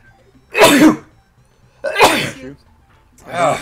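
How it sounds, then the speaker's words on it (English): Three sharp sneezes, close and loud, spaced apart with near silence between them. "got the snuffles, the sniffles, the sneezes"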